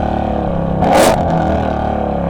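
A 2020 Ford Shelby GT500 with a Lethal Track Exhaust brakes hard and makes an automatic downshift, a steady loud engine drone broken by one sharp rev blip in the middle, close by.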